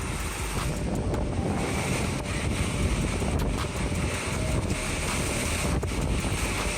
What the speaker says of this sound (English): Every powerful gust not only blows away surrounding objects, but also shakes everything in its path.